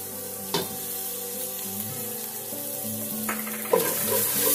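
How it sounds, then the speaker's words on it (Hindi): Ginger garlic paste sizzles steadily in a pan while matar pulao is being made, a continuous close frying hiss with a few brief bursts of spattering and no talk. "अब हम इसमें अदरक लहसुन पीस डालते हैं।"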